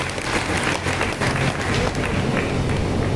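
Steady, dense applause from a seated audience at a ceremony honoring organizers, continuous and fairly loud for the full stretch, with scattered voices mixed into the crowd noise.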